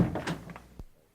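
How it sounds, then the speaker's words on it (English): A door is opened in a narrated Sherlock Holmes story: a single short click or knock lands near the end, just after a voice falls quiet, then silence. "Holmes got up and opened the door."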